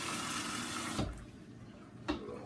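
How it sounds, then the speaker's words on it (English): Water pours steadily into a roasting pan holding a whole duck, a continuous splashing flow with a couple of brief pauses, close up in a kitchen. "Now I'm gonna add some water to the bottom of the pan to keep the duck from drying out."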